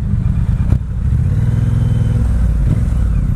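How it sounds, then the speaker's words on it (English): Scooter and motorcycle engines, a Vespa and a Yamaha FZ, hum steadily at close range while riding, a continuous low drone with a brief clatter near the start and no speech. "Boys and girls, this is how you ride a scooter"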